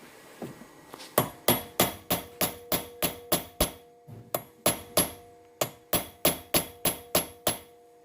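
Steady series of sharp metallic blows from a heavy hammer on a punch at a hot shot die ingot mold, about two per second, loud and ringing, with a brief pause midway.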